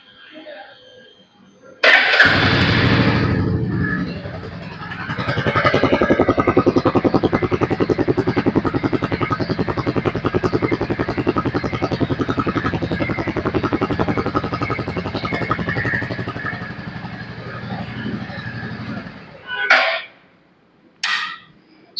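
A standard Royal Enfield Bullet 350 motorcycle idles and revs near the microphone, a steady deep thumping exhaust beat that swells in the middle and drops away near the end, with no talking.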